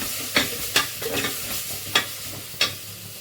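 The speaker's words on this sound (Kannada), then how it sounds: "ನಾನು 1 ಹಿಡಿಯಷ್ಟು ಪುದೀನ, ಅದು ಕೂಡ ನೀಟಾಗಿ ಫ್ರೈ ಮಾಡ್ಕೊಳ್ಳೋಣ" A handful of mint frying in a pan for chicken biryani: a constant low sizzle punctuated by about five sharp spatula knocks against the pan at a loose, uneven rhythm.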